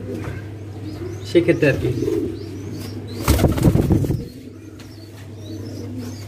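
Fancy pigeons, including Spanish breeds, coo in a loft, with low steady cooing, a burst of wing flapping and scuffling, and faint chirps, while someone talks briefly.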